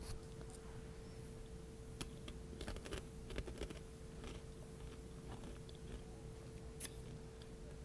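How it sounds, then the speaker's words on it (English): Someone eats party mix snack, making faint, scattered crunches and small clicking bites over a steady low background hum, quiet and close. "I haven't had party mix in a long time, and I like to treat myself, so if you hear a little crunch"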